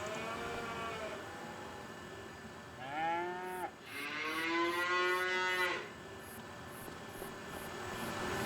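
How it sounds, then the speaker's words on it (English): Cows in a dairy barn in the video game Farming Simulator 25 give two drawn-out moos, one short and one longer, over a steady mechanical hum with faint regular clicking. "It's feeding the cows."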